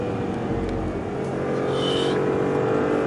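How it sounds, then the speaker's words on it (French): A 2013 Audi RS6 engine holds a steady, loud roar as it is revved toward the rev limiter in manual mode, a continuous drone with no speech over it. "en mode manuel on peut faire rupter le moteur"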